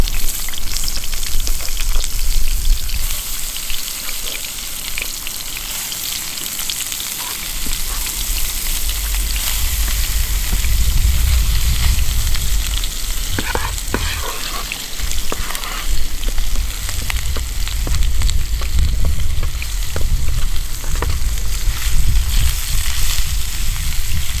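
Food frying in oil in a cast iron pan at a forest campsite, a loud, constant sizzle with occasional spits and scraping stirs, up close and with no voices.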